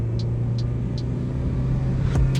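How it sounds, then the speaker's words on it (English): A car with a shot transmission stuck in first gear holds a steady, droning engine note at a nearly constant pitch. A few faint, high chirps sound over it. "This thing won't shift out of first gear."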